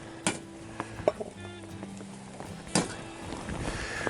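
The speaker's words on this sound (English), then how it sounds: "Stir them in real good" Noodles being stirred into cream of mushroom soup with a little milk in a Dutch oven at a campsite: a few soft scraping and clinking strokes, with low ambient murmur in between.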